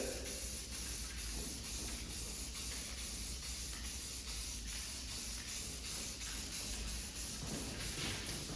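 Spray paint is applied in a heavy coat to an arcade control panel, a loud, steady, close hiss that runs without a break.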